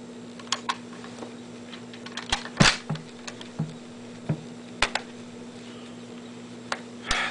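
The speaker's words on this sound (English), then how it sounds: "This is the safety on, and you're able to work the bolt." A Mauser Kar98 rifle's bolt is worked with the safety on, giving scattered sharp metallic clicks and clacks close up, one louder clack near the middle, over a quiet background hum.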